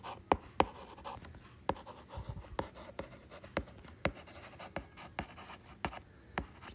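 Pen writing out a math subtraction on paper: quick scratchy strokes with sharp taps and clicks in an irregular rhythm, close up and fairly quiet, with no talking.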